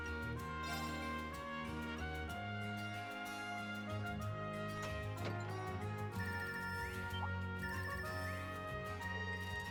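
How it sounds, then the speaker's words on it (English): A melodic phone ringtone chimes in the video game Trails of Cold Steel III, a faint, repeating pattern of bright electronic tones lasting several seconds. "Sounds different from the normal ringtone."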